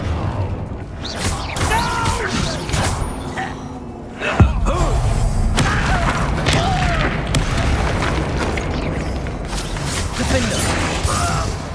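Spell-combat blasts from the Confringo fire spell in Hogwarts Legacy, a loud sudden impact near the middle followed by dense rumbling, crackling game effects and clanking mechanisms throughout.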